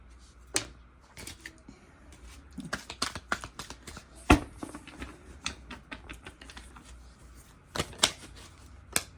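Deck of playing cards being shuffled and handled nearby, a quiet scatter of sharp riffling bursts and taps at irregular intervals, with no talking.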